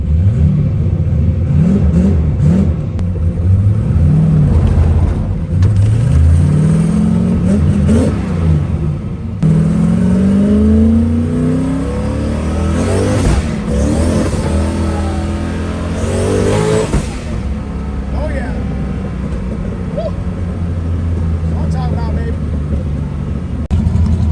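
Turbocharged 363 stroker Ford Foxbody Mustang driving and revving, engine notes rising and falling through repeated acceleration sweeps, close and loud, with someone talking over parts of it.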